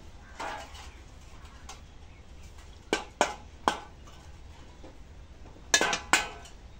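Boiled eggs being mashed in a bowl, a utensil knocking and clinking against the dish in scattered sharp taps, some in quick pairs, over a quiet room background.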